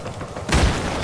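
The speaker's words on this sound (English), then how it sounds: "Just to make sure, I'm throwing a grenade" A grenade explodes in a video game: one sudden, heavy low boom about halfway through that follows a quieter rumble and lingers briefly.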